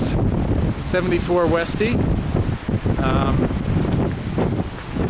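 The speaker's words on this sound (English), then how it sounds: "Gosh, you can see the wind blowing up here." Strong wind buffets the microphone outdoors beside a 1974 Volkswagen Westfalia camper van, a steady loud rumbling roar heard under a man's speech.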